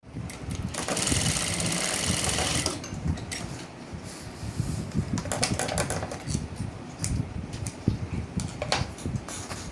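Sewing machine stitching the sides of a fabric toiletry bag, a steady mechanical whirr in bursts that stop and restart, loud and close, with no talking.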